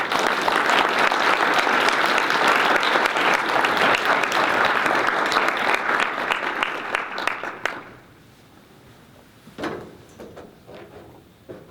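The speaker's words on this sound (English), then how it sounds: "let's give everyone one more big round of applause." A crowd claps loudly and steadily at an innovation awards ceremony, the applause running dense for about eight seconds before it stops abruptly, leaving near quiet with a few faint scattered thumps.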